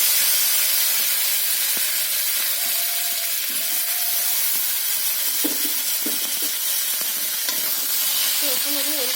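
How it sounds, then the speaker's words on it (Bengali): Kohlrabi pieces hiss and sizzle in hot oil in a kadai after tilapia has been fried, a steady broadband fry with scattered clinks and stirring knocks throughout. "তো বন্ধুরা, কড়াইতে আমি ওলকপিটা দিয়ে দিচ্ছি"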